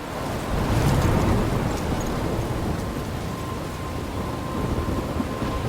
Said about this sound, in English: I'm trapped in a storm?